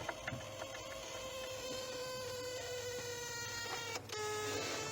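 Rapid mechanical clicking and buzzing from a faulty electrical relay in a Volkswagen Golf 2 abandoned for six years, steady and close, with a brief louder shift near the end.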